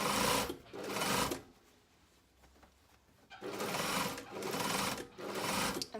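Sewing machine back tacking and running shirring rows on a Phoebe jumpsuit, close and fairly loud, in two short bursts of whirring stitching separated by a quiet pause, then two more bursts.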